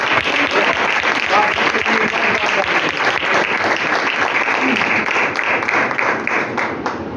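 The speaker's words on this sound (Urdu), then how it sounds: "آئیے اس کے لیے تالیاں بجائے جو اس کا مستحق ہے۔" A church congregation bursts into loud, sustained applause, dense clapping from a large crowd continuing steadily throughout with no pauses.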